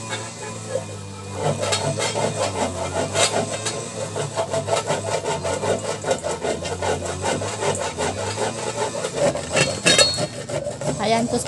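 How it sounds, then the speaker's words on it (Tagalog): Ears of corn being scraped to strip off the skin for corn suman, a steady, close, coarse rasping that continues without pause throughout. "kuskusin muna natin ng ganito mga ka-sisters para mawala yung pinaka balat niya"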